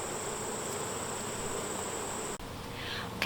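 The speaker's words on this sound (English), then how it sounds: "I can kind of see here we've got some yellow jackets." Bees and yellow jackets buzzing around an opened beehive, a dense, continuous drone close by with a brief interruption near the end, no voices.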